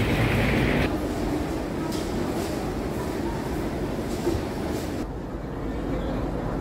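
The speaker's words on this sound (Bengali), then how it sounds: "এই ঢুকছে আমাদের train number 12042, new Jalpaiguri Howrah শতাব্দী এক্সপ্রেস" The 12042 New Jalpaiguri–Howrah Shatabdi Express pulls into a station platform at early morning with a continuous, moderately loud rolling rumble of wheels and carriages.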